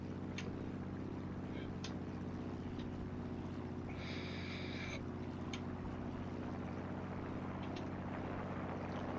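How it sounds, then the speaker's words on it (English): Engine of a Hawker Tempest V fighter in the War Thunder flight game, throttled fully back: a steady, droning low hum that runs the whole time, with a few short faint clicks and a brief higher buzz partway through. "Engine's all the way dialed back and it's still hanging on to energy."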